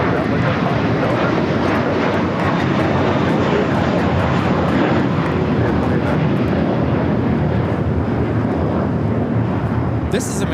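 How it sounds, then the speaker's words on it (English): An American Airlines Airbus A321 takes off from LAX bound for Dallas Fort Worth, its engines giving a loud, steady, broadband roar that fills the whole stretch, with talk heard beneath it. "This is American Airlines 2890 taking off to Dallas Fort Worth on the A321."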